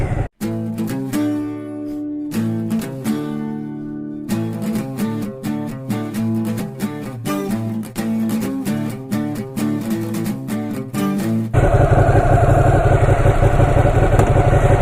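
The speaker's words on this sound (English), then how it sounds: "we are trying out the Ducati 959 Panigale" Ducati 959 Panigale sport bike engine loping at idle with a rhythmic, lumpy thump and clatter, close and loud, then rising into a steady roar as it pulls away.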